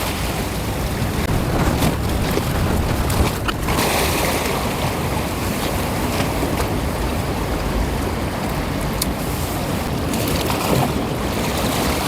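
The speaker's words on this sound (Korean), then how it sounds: "파도가 조금만 들쳤으면" Sea waves surge and break along the East Sea shore during winter surf fishing, a constant loud roar of water and wind with a few sharper splashes and no voices.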